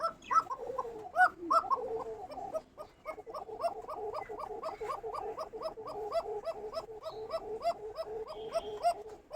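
Pigeons at a bird market call in steady, rhythmic rounds of cooing, close and clear, with repeated throaty notes running throughout and a few sharper calls near the start.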